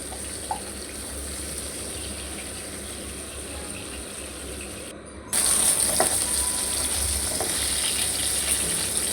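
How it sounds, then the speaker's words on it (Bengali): Rohu fish pieces rubbed with salt and turmeric fry in hot oil in a pan, producing a constant low, even hiss that jumps slightly louder midway and continues with faint clinks. "প্যানে তেল গরম করে লবণ হলুদ মাখিয়ে রাখা রুই মাছগুলো দিয়ে একদম উল্টে পাল্টে লাল করে ভেজে তুলে নেব।"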